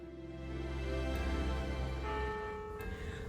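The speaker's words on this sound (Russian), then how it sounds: "Опять колокольный звон." Church bells ring in Gueberschwihr, Alsace, with a rich, sustained tone, their overtones lingering and overlapping as fresh strikes land, fairly loud and resonant with no voices.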